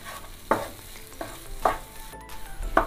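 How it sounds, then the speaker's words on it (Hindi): A spoon stirs vegetable daliya porridge seasoned with garam masala and red chili powder in a pan, giving three or four distinct scraping strokes over a soft simmering sizzle, close and fairly quiet. "अभी अब हम इसमें मिलाएंगे गरम मसाला और लाल मिर्च पाउडर और फिर अच्छे से चलाएंगे।"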